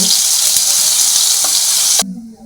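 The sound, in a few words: tempering of cumin, mustard seeds, ginger-garlic paste frying in oil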